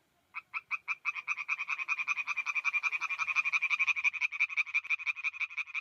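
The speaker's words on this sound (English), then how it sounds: "he was studying a type of frog called the eastern tree frog" An eastern tree frog calls in a rapid, steady train of pulsed croaking trills that quickly builds and then holds at an even pace, close and clear against a quiet background.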